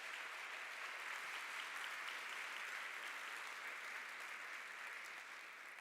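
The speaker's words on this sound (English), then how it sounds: "Let's give them all a round of applause." An audience at a West Chester University event applauds, a dense, steady wash of clapping from many hands that holds evenly throughout without letting up.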